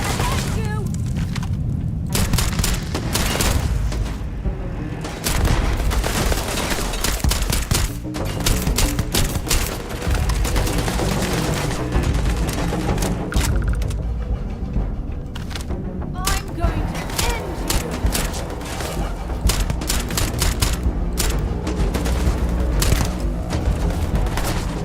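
Gunfire in the sci-fi video game Starfield, loud dense bursts and booms with rapid shots running almost continuously, with someone talking over the combat at times.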